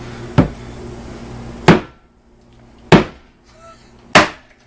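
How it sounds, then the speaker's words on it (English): An egg is knocked against a kitchen counter four times, each a sharp, loud tap spaced about a second apart, close up with no speech. "I'm going to try to crack it on the counter first"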